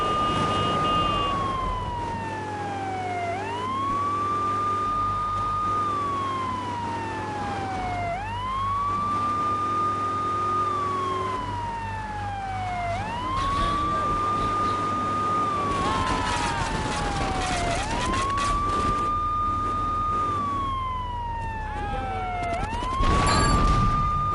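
A police car siren in the GTA video game wails loudly and steadily, its rising and falling sweeps repeating about every five seconds over a constant engine hum, with no talking.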